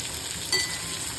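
Okra fries in a pan with a soft, even sizzle over a short stretch, broken by one brief metallic clink.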